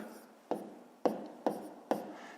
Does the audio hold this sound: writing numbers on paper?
yes